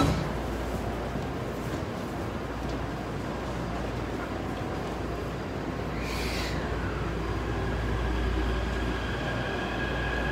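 Steady loud rumble of a Taipei Metro train rolling along from Main Station toward Raohe Night Market, recorded from inside the car, with a brief high squeal of wheels or brakes midway through.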